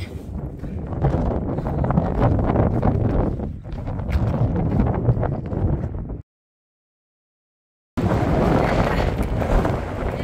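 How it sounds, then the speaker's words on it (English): Gusty wind on a chilly mountain trail near a summit in the Tahoe area buffets the microphone as a loud, rumbling roar in bursts, broken by a brief dead gap before resuming. "So the wind has definitely picked up. It's a little bit more gusty."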